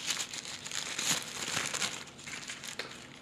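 Kraft paper wrapped around a knife crinkles and rustles as it is unpacked, a close series of irregular crackling crumples that rise and fall in bursts.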